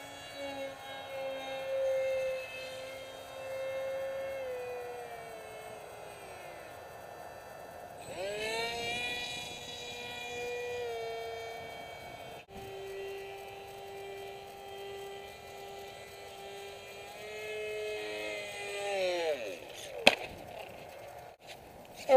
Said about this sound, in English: Gonna do some fun flying just to get an impression of the APC prop.